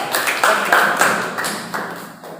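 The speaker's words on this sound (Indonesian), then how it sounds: "Tepuk tangan ya." Students in a classroom guidance lesson on bullying clap their hands, a handful of sharp, evenly spaced claps that stand out loudly and then gradually thin and fade.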